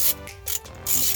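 A hand ratchet clicks briefly while tightening the nuts on a tail light of a 2019 Subaru WRX, giving a short, close burst of rapid mechanical clicking with a pause in the middle.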